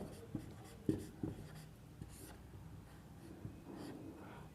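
A pen scratches across paper in short, close strokes during a maths lesson, with a few sharper taps early on, then softer scribbling that stays faint and quiet.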